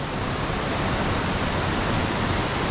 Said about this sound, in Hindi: हर एक 1 किलोमीटर पे यहाँ पे एक आपको झरना देखने को मिलेगा।